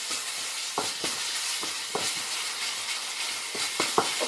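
Turmeric being stirred into paneer bhurji in a frying pan, a steady hiss of frying with several sharp spoon scrapes against the pan at irregular intervals, close and moderately loud.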